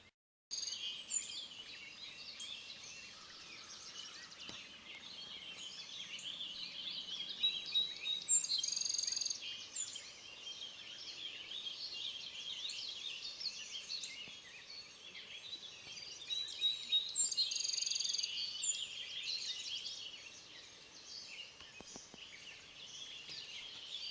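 Many birds sing and chirp outdoors in a continuous, fairly faint chorus of overlapping high calls, with no talking.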